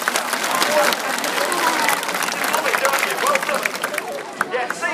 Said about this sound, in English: join in, give him a round of applause.